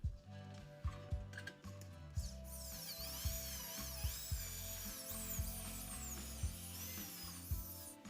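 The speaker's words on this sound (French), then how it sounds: "Maintenant, on perce encore quelques trous sur le bord." A drill bores holes into the edge of an aluminium piece, giving repeated short grinding bursts with clicks and ratcheting, plus a high whining squeal partway through, all fairly quiet.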